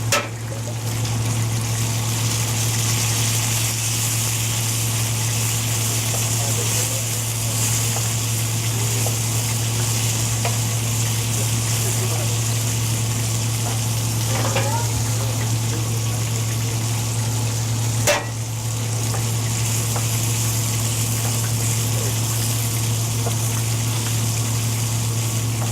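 Water poured into a frying pan of Greek-style green beans on a lowered flame, giving a steady, close, continuous sizzle and bubbling hiss that holds for the whole stretch with no one talking.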